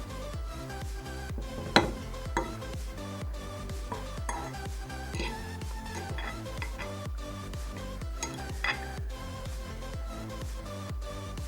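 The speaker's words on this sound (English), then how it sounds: "The beauty of this meal is to mix your groundnut and the sweet potatoes nicely, like so" Groundnut sauce is mixed into sweet potatoes in Ugandan style, giving a steady run of soft ticking and clinking utensil taps against a dish, repeated in an even rhythm, close up and with no talk.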